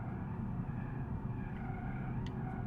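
Volkswagen T-Cross base model in BeamNG.Drive on the Nürburgring, a steady loud engine drone with a rough, jolting gear change and faint tire noise, no talking.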